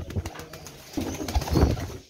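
Pigeons coo in soft, low throaty bursts, several calls overlapping close by, with a faint flutter and no speech.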